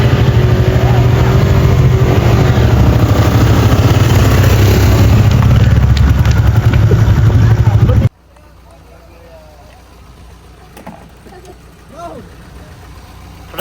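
A scooter engine drones loudly and steadily while being ridden through a village, then cuts off abruptly after about eight seconds, leaving a quiet stretch with faint voices and small sounds.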